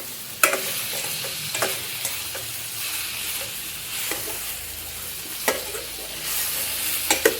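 Soybean curry stir-fried in masala in a pan: a steady sizzle runs throughout, broken by sharp scrapes and clacks of a spatula at irregular intervals, close and fairly loud, with no voices.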